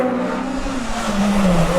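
A Honda Civic race car at a motorsport festival's street-racing shootout bounces off its rev limiter, a loud, buzzing engine note that wavers and then drops slightly in pitch, with faint tyre noise beneath.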